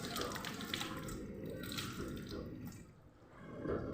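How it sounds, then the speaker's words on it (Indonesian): Hands being rinsed under running tap water at a sink, a steady faint splashing flow with soft background murmur of voices. "lalu bilas menggunakan air mengalir"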